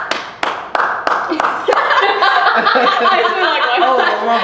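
A handful of people clap on request, first a few sharp separate claps close by, then a burst of quick applause mixed with laughter and chatter.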